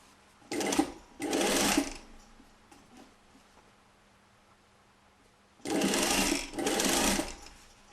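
Sewing machine stitching the second armhole seam of a corset, heard as two pairs of short, loud bursts of rapid needle whirring separated by a quiet pause.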